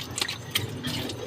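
A weak trickle of tap water runs while dishes are washed at home, a thin, steady splashing with a few brief drips and clinks, close and fairly quiet.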